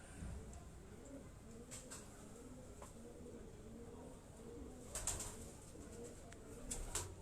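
Cap-breed pigeons coo in soft repeated low phrases at a rooftop loft, moderately near, over a quiet background with occasional faint clicks and rustles.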